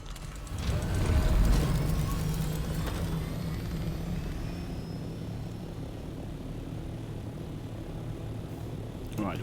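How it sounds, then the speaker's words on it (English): An ornithopter chopper in the video game Dune Awakening flies with a loud whirring engine and rotor roar that swells early, then holds steady and close. "placing the chopper down can be such a pain sometimes."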